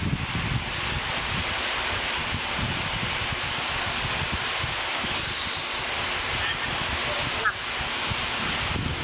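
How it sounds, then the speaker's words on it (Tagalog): Sea waves wash against the shore in Valenzuela, and wind buffets the microphone. The roar is steady and broadband and fills the clip, with no clear breaks. "Dagat na sa kala sa Valenzuela."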